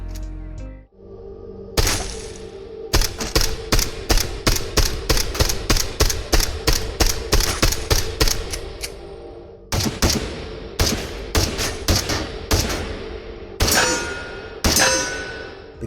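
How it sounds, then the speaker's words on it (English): A silenced pistol fires in the Into The Radius video game, shot after shot in quick, even succession: sharp, close, clattering cracks, each with a brief metallic ring, pausing briefly before a few final shots. "when silenced, it has the distinctive sound of someone being clattered over the head with a school textbook"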